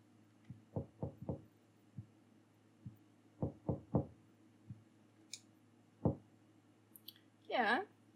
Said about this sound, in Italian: vero che bussano alla porta?